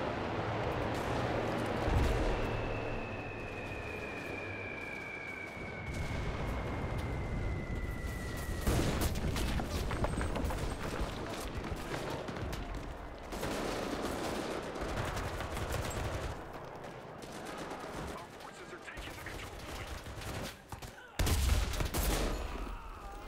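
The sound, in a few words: gunfire and explosions in the video game Enlisted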